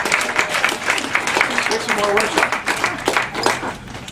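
An audience applauds workshop attendees, a steady patter of clapping heard beneath a speaker talking over it.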